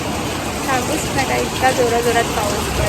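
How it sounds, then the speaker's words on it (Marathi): Heavy rain pours down during a power cut, a loud, continuous dense hiss close by, with faint talk underneath. "भक्कम पाऊस पडत आहे"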